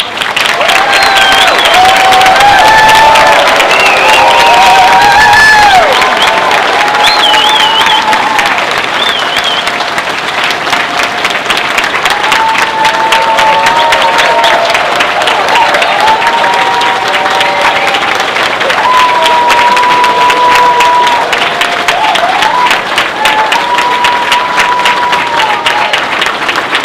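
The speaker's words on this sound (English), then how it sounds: "If we could give the class of 2029 another round of applause" Sustained, loud applause from a ceremony audience honoring a graduating medical class at a white coat ceremony, with scattered cheers and crowd noise over dense clapping throughout.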